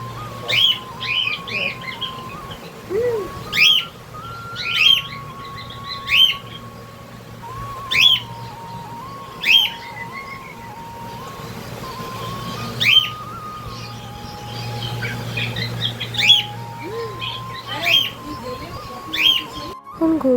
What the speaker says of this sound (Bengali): এই পাখিটিকে তাই ভাবলাম এর কিছু গলার আওয়াজ আপনাদের সাথে যদি শেয়ার করা যায় তো বলতে না বলতেই দেখুন কেমন ডাকছে